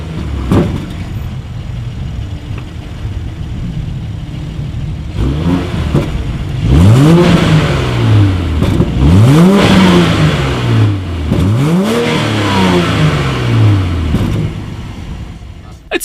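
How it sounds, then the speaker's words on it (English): A 2019 BMW X7 SUV with dual exhaust outlets revs repeatedly from the rear: several loud rising and falling engine revs, each swelling and dropping back to idle, with a steady idle underneath and faint background noise. "As always, here is that exhaust clip."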